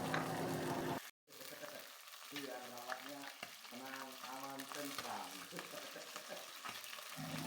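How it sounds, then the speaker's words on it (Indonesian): Scored fish frying in hot oil sizzles and crackles steadily at close range, with a short drop near the start and faint talk in the background. "Setelah dicuci bersih, disayat, mari kita goreng."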